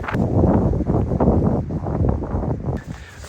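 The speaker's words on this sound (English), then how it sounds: "So let me show you inside because the wind is coming in." Strong gusts of storm wind buffet a 3.5 by 3.5 DD hammock tarp shelter, a loud continuous low roar with flapping surges that ease briefly near the end.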